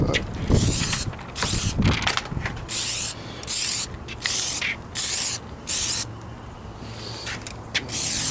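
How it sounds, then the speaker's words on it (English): Repeated bursts of Plasti Dip aerosol spray on Honda Prelude car wheels hiss in short, even pulses, roughly one per second, with a brief mechanical rattle near the start. "Spray the car."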